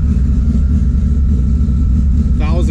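A Honda big cam engine idles roughly around 1,100 to 1,200 RPM, a loud, steady low rumble with an uneven, choppy beat that runs through the whole clip.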